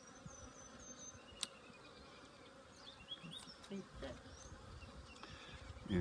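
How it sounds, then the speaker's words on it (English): Honey bees buzz around an opened hive during a spring inspection, a steady, dense drone close by with individual bees passing near, faint clicks and brief voices in the background. "They're buzzing."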